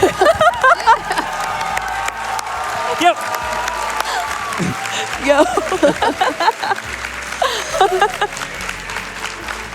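Crowd at a Tetris 99 speedrun event during Summer Games Done Quick 2025 applauding, cheering and whooping throughout, a steady roar of clapping with shouts rising over it while people talk and call out near the microphone.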